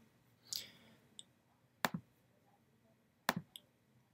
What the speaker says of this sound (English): So I can come up to File, and I can click Place.